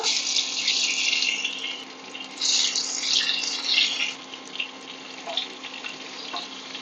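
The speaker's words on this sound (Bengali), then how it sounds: "মাছগুলো ভেজে নেব।" Fish rubbed with salt and turmeric sizzle steadily in mustard oil in a wok. The hiss is continuous and moderately loud, with a faint hum underneath.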